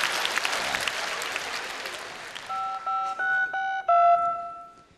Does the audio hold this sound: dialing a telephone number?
yes